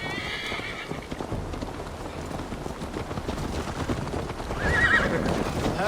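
A horse in Assassin's Creed Valhalla whinnies and snorts while its hooves clop steadily on the ground, close and fairly loud, with a second whinny rising toward the end.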